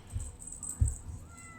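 A house cat gives two short, soft meows close by against a faint, steady background hum.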